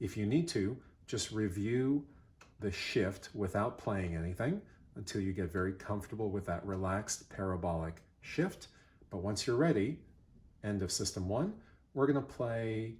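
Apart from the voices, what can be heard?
No everyday noise stands out behind the speech.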